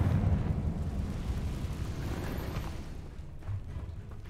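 A Confringo blast spell explodes in Hogwarts Legacy, a loud low rumbling burst that decays into a rolling, crackling roar over several seconds.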